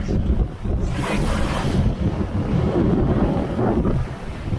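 Waves slosh against a sailboat running fast under reefed sails in a strong Meltemi wind near Naxos and Amorgos, with a steady rumble of water and heavy wind buffeting the microphone throughout.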